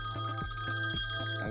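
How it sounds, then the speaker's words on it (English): Mobile phone rings with an incoming FaceTime call, a rapid repeating electronic ring pattern with steady tones, moderately loud and alone. "and there's my phone ringing."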